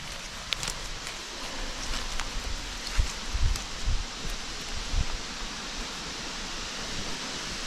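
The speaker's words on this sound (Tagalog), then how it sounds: "Ang lakas ng hangin. Naririnig nyo yan?" Strong wind blowing outdoors in a mushroom-foraging area, a steady broad rushing roar with soft rustling gusts that swell and ease, carrying on throughout with no talking.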